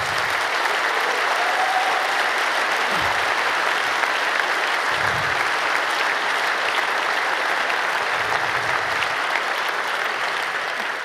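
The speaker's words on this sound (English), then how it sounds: "Big round of applause for them," Sustained applause from a large conference audience at a closing event in a big congress hall, a dense, steady wash of clapping filling the whole stretch without any talk over it.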